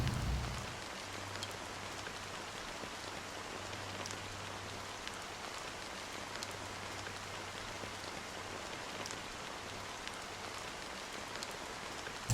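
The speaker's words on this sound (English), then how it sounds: "the rain is so loud" Loud rain in the video game Honkai: Star Rail, a steady hiss of heavy rainfall with a faint low hum underneath, continuous and unchanging throughout.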